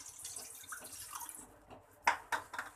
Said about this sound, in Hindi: हम इसमें 1 गिलास पानी डालेंगे,